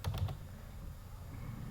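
Computer keyboard typing at a Linux command line, a quick burst of a few close keystrokes at the start, then faint room hum with no further keys.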